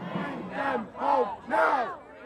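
Crowd of progressive Democrats at a rally chanting in unison, with four loud rhythmic shouted bursts separated by short pauses, close and energetic.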